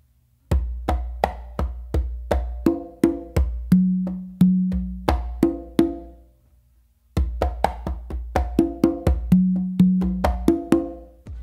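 Congas play a pachanga rhythm, crisp open tones and slaps repeating in a steady two-bar pattern, a short pause midway, then the pattern resumes, close and loud with no talking.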